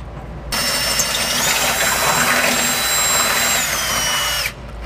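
A power drill with a large bit boring a bolt hole for a trailer hitch on a 1990 Toyota 4Runner, whining loudly and steadily for about four seconds before stopping abruptly.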